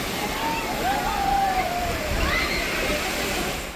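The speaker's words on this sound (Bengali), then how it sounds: "এইবার ঢেউটা হবে, দেখো কত সুন্দর ঢেউটা হচ্ছে, দেখো একবার।" River waves wash against the bank at Belari Char near Kolkata in a continuous rushing, sloshing roar, with a faint thin whistle-like tone drifting over the water noise.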